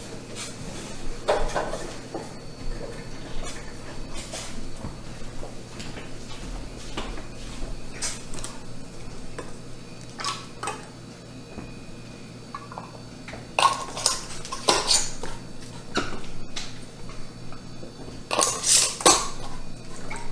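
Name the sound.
placing lids and rings on canning jars of beef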